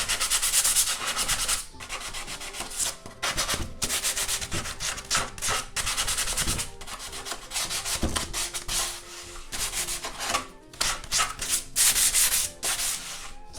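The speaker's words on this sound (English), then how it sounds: "so quick sand up on that" Steady, loud sanding by hand on the edges of a wooden bar top arcade cabinet cutout, a continuous close rasping rub with brief pauses between strokes.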